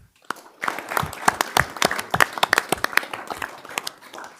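Audience applause at a village board of trustees meeting in Arlington Heights, Illinois: a steady patter of many hands clapping, moderately close, with a faint voice briefly underneath.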